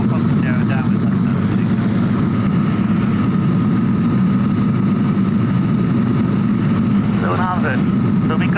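A motor glider's engine drones steadily and loudly through the whole stretch in flight at around 700 feet, a constant low hum with a voice briefly cutting in near the end.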